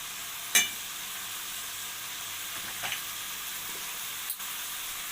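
Liver fries in a pan for a quick liver, pepper and onion dish, giving a steady close sizzle with a few sharp crackles or utensil taps and no talking.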